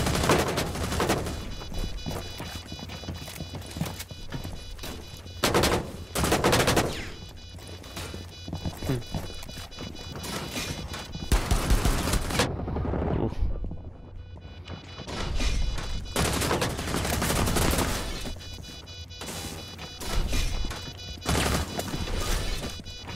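Gunfire in Rainbow Six Siege: dense, loud bursts of automatic shots and cracks that fill almost the whole stretch, with only a short lull near the middle and no clear talk.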